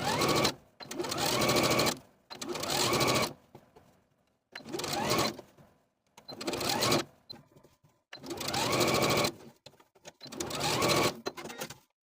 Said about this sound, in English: We're going to sew the facings to its seam allowance, edge stitching close to that seam line